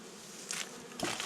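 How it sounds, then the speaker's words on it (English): Honeybees inside a hive react to a formic acid mite treatment with a faint, steady buzzing hum and a couple of brief, louder swells of activity. "You'll hear the bees kind of already start to react to the smell because it is a little overpowering."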